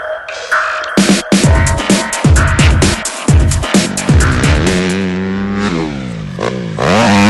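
A dirt bike lands a big jump off a double with the throttle held open: choppy bursts of engine revving and clatter, then a sustained rising and falling engine note close by.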